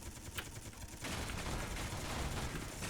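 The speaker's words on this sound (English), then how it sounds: "Oh, we're getting rocket fire." Rocket fire in the Space Engineers video game, a dense continuous roar of rapid blasts that swells louder after the first second and stays steady to the end.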